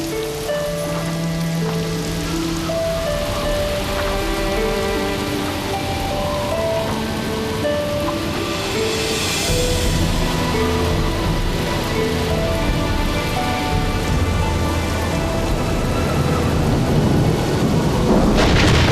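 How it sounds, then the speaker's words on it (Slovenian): A heavy thunderstorm pours steady loud rain while rolling thunder rumbles, mixed with a cartoon's musical score that swells toward the end; no voices. "Misliš, da bo huda nevihta?"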